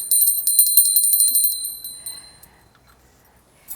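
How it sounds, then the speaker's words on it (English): A small hand bell rung for an offering to Krishna, with bright metallic strikes repeating rapidly for about two seconds, then the ringing decays into a faint lingering shimmer. "and a bell."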